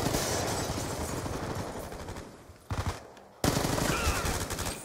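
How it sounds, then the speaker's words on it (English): A light machine gun fires sustained rapid bursts in the Slums map of Call of Duty: Black Ops 2, loud and close. There is a short lull, then the fire resumes strongly. "the dude who's using the light machine gun is a master's."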